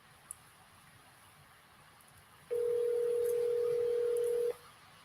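A telephone dial tone and dialing beeps during a redialed outbound call: a faint blip early on, then one steady, loud, unbroken tone holds for about two seconds before cutting off, with no talking.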